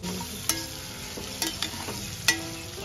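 Food sizzles steadily in a pan in a home kitchen while someone stirs it, with three sharp clinks of the utensil against the pan standing out above the quiet frying.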